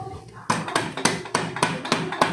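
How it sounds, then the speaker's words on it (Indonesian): A rubber mallet taps a part into place on a Yamaha Mio scooter engine being assembled, six or seven firm evenly spaced knocks, close and clear. "Kita gunakan palu karet saja ya."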